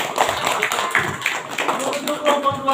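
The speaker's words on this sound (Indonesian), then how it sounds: "Tepuk tangan dulu." Schoolchildren clapping hands in a classroom during a lesson on saving water, a brief scattered burst of claps mixed with voices talking over it.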